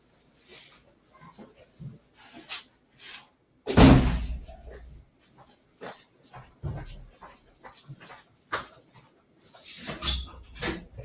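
Several house dogs bark in bursts at a delivery arriving at the front door, mixed with a loud door thump, whimpers and shuffling between the barks. No one speaks.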